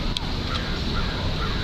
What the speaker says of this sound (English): you heard the crow, Noah?